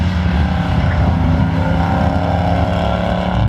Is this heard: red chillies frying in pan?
no